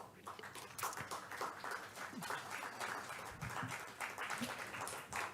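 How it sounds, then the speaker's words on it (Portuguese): An audience at a Portuguese health-workforce panel session applauds a professor with steady, moderately distant clapping that holds throughout, with faint voices mixed in. "uma grande salva de palmas para a senhora"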